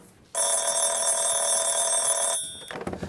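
A telephone rings loudly and close, one sustained bright electronic ring that lasts about two seconds before stopping, followed by faint handling noise.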